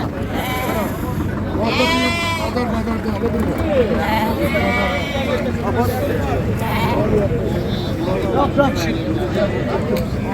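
Lambs bleat repeatedly at a crowded sheep and lamb market in Fuzuli, Azerbaijan, their calls rising over steady crowd babble and nearby talk.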